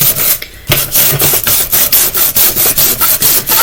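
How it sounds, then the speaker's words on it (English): Sandpaper rubbing back and forth over painted faux shiplap wood, a steady run of close, loud scratchy strokes in regular rhythm after a brief pause near the start. "Just kind of randomly go in and sand it."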